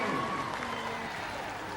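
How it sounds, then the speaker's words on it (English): Crowd at a 2006 rugby league match between the NZ Kiwis and NZ Residents raising a cheer from the sideline, a broad wash of voices and clapping under a commentator talking. "Bit of a cheer going up on the sideline"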